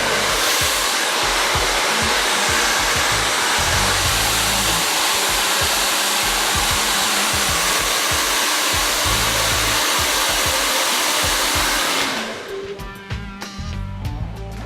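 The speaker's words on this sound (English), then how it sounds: "I'm going to take a blow dryer and a brush" A handheld blow dryer works over a woman's hair while it is brushed to redirect the hairline into a side part, a loud steady whoosh for about twelve seconds that then cuts off, leaving quieter handling sounds.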